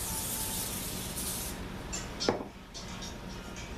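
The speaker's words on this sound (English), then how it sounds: "I'm just using vegetable oil spray." Vegetable oil spray hisses from a can in a short steady burst over a baking pan while sub rolls are prepared, followed by quieter kitchen sounds.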